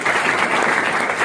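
A seated audience at a guidance and motivation session bursts into dense, continuous applause, loud and close, a steady wash of many hands clapping without a break.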